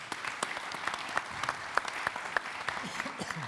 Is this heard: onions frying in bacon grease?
no